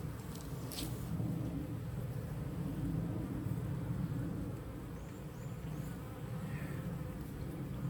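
Honey bees buzz steadily around an open hive during a spring inspection, a dense, continuous drone filling the air with individual bees passing close now and then.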